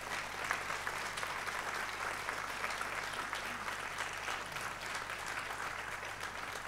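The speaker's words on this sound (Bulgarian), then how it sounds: "Аплодисменти за всички вас!" Audience applause at a choral concert in Pliska, dense, steady clapping from a sizable crowd filling the room at moderate volume throughout.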